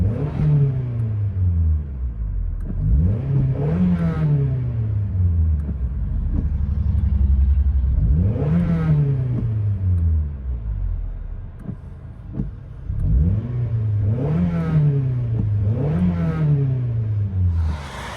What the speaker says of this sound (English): Toyota Highlander with BORLA Pro XS muffler, stock resonator.